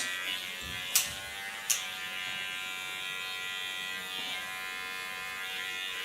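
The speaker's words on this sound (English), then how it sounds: "now I put it on the sharpest position to clean up the lines." An electric hair clipper buzzes steadily and faintly while cleaning up lines on a shaved nape, with two sharp clicks near the start and a continuous thin hum throughout, no talking.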